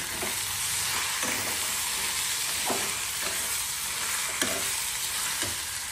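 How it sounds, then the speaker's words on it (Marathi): Two cracked eggs with black pepper are stirred in a hot pan for egg fried rice. A steady, close sizzle runs throughout, broken by regular scraping strokes about once a second, and no one speaks. "2 अंडी फोडून टाकलेली आहेत आपण याच्यामध्ये। आता याला मिक्स करूया।"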